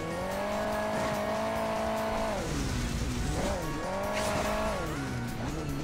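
Car engine from the Hill Climb Racing 2 game, a continuous loud whining drone that rises and falls in pitch with revving and shifting, running alone throughout.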